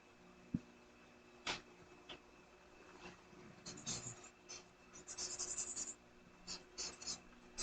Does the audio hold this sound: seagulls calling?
no